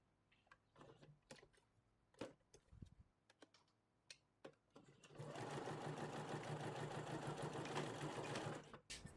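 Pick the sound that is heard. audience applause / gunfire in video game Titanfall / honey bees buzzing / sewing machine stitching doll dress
sewing machine stitching doll dress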